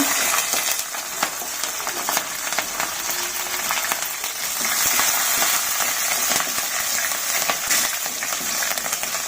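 Green chillies fry in hot oil for a quick poha breakfast, a dense continuous sizzle with scattered crackling pops, loud and close, no talk.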